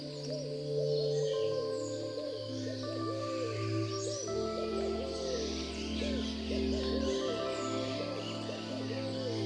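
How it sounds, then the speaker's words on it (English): Ferruginous pygmy owl in a Costa Rica cloud forest at Monteverde, giving repeated short hoots in steady sequence amid a dense chorus of other birds and insects, with a low musical background. "Or this adorable ferruginous pygmy owl?"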